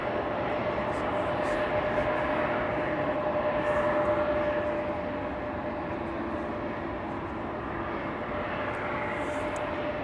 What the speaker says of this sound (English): Austrian flight 312 to Vienna, A320, 17 years old, first flight May 2008